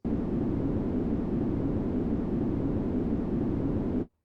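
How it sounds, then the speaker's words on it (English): Steady white noise through a Boss RC-505 MK2 low-pass filter, a muffled, dull rushing hiss with the highs cut away, holding constant for about four seconds before stopping abruptly. "So now, when I play the same white noise as before, it will sound like this."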